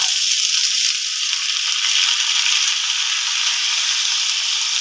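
Sliced onions and ginger-garlic paste frying in a pan for an egg curry, a loud, even, hissing sizzle that holds steady without a break, close up.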